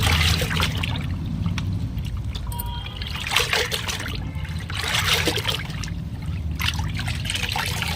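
A cotton nightie is washed by hand in water, with continuous trickling and sloshing, occasional splashes and drips, fairly close and steady throughout without any talk.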